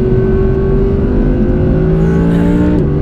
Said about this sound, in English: Rev it up until I think we're gonna run out of track before that happens